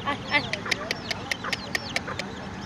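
Chickens cluck and chirp in quick, scattered bursts nearby on a rooftop garden, with sharp ticking clicks repeating over a steady background noise.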